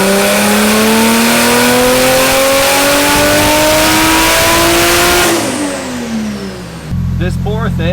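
A Toyota JZX110 Mark II engine revs up loudly with a rising pitch through about five seconds, then drops back and idles low, with voices talking over the last stretch.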